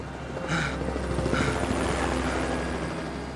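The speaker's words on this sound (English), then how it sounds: "Tourist helicopters continue to fly by, and Dewey still has no way of attracting th" A tourist helicopter drones overhead near a volcano, its steady rotor rumble carrying at a distance, with a faint higher whine briefly rising and fading.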